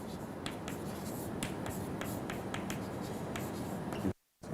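Chalk or pen scratches out an equation during a lecture, a quick run of close, crisp taps and strokes over a faint room hiss, ending in a brief dropout.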